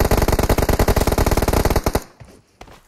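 Rapid automatic gunfire from the battle royale mobile game Free Fire, played on an iPhone 13, rattles in dense, loud bursts for about two seconds, then cuts to near silence with one faint trailing pop.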